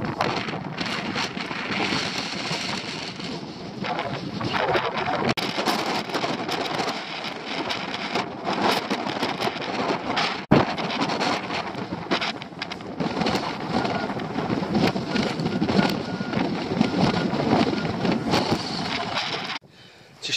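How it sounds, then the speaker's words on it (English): Dense, steady roar of hail and heavy rain pelting surfaces at a coastal boat mooring, with gusty wind rumbling through, continuous and loud for the whole stretch. "Sheltering from a hailstorm at the moment, or hail. It's coming down."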